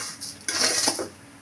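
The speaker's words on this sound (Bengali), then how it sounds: "চালগুলো সুন্দর করে নেড়ে ছেড়ে নিতে হবে" Rice is stirred in a cooking pot with a spoon, producing a run of metallic scraping and light clinking that grows busier midway and then tapers off.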